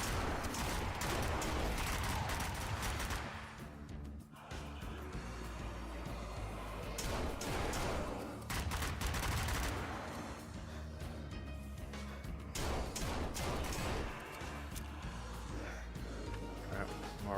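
Dense, continuous video game gunfire with rapid bursts and heavy reports in a VR shooter, loud and sustained throughout with brief lulls, while players talk over it.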